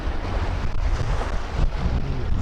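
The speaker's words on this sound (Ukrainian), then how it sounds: "хвиля впала, але реально так дме, що мама не горює" Strong wind blows on the Dnipro river, a loud, continuous roar buffeting the microphone with gusty surges and no break throughout.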